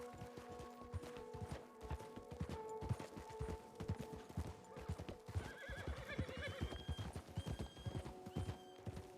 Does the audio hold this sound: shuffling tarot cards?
no